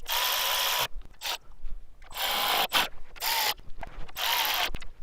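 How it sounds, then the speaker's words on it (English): Regular hand ratchet tightening valve cover bolts in a crisscross pattern on a Toyota 2.4L 2AZ-FE engine, several close bursts of fast clicking separated by pauses and brief handling clatter, with no talk. "This is just a regular ratchet."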